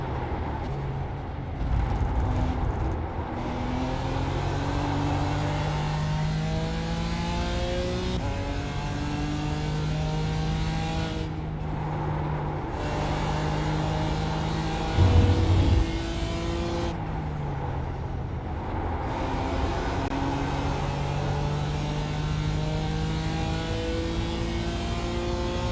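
Race car engines in the iRacing sim at Watkins Glen, an LMP prototype passing, with loud continuous engine whine rising and falling through gear shifts and brief dips between, a close revving pass midway, no talking.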